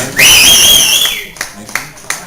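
A live Friday music night crowd answers Jim with a loud, sustained whistle and then scattered claps and cheers, all close by.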